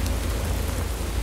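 Rain in a video game, a steady hissing wash of rainfall with a low rumbling undertone, loud and continuous without any talk.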